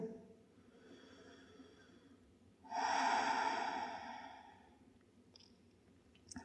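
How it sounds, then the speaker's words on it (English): A single slow, deep breath during a gentle yoga flow, a long airy exhale swelling up close over a faint room hush, ending with a small click. "One more full breath."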